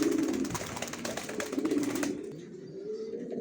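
Young racer pigeons coo in a series of soft, low, throaty calls close by, with a quiet pause near the end, and no voices are heard.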